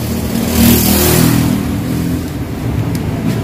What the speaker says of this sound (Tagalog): umandar naman ng maayos yung motor natin